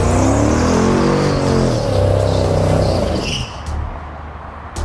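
A McLaren 650S Spider revs hard with its tires spinning: a loud, rising engine whine climbs steadily for about three seconds, then cuts off into a softer rumble with a few sharp clicks.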